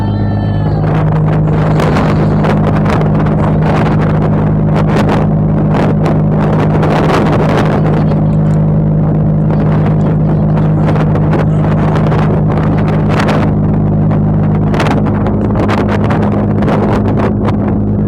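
A ferry's engine roars loud and steady at the back of the boat, a deep constant drone with a hum underneath, mixed with gusting wind buffeting the microphone, with no talk.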